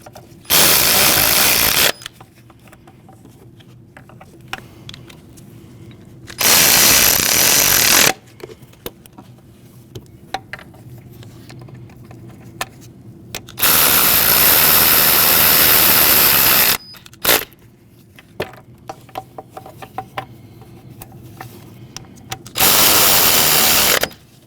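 A power tool with a 10mm socket on an extension snugs down intake manifold bolts on a Jeep Cherokee, four loud whirring bursts of a few seconds each separated by quiet handling clicks.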